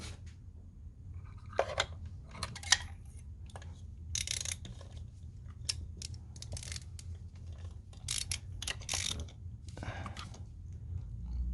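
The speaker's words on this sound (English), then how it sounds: "Next, I'll remove the spark plugs." Ratchet wrench removing spark plugs from a high-mileage BMW engine, close sharp bursts of clicking in irregular runs separated by quiet pauses.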